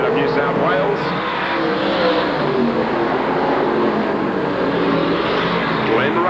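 V8 dirt modified race cars power around the dirt oval at Brisbane International Speedway in a dense, continuous roar of several engines, with a race commentator talking over the top throughout.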